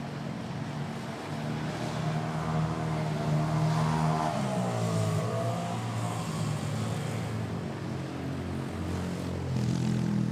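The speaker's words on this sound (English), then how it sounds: "Right behind it is Philippine Airlines A320 arriving from Cotabato." A Philippine Airlines A320 arriving at Manila Airport makes a continuous loud jet roar with a whine that sweeps in pitch as it passes close, and nobody speaks.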